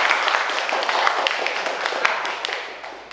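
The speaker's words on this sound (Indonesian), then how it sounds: "Ya, tepuk tangan untuk Komang Adi dulu." Classroom applause for a student, a dense patter of many hands clapping steadily for about three seconds at moderate level, with no talk over it.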